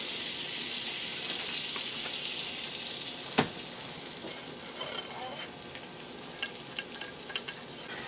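Butter, oil and flour frying together in a pan, a soft, even sizzle with a clatter from a utensil partway through and light stirring.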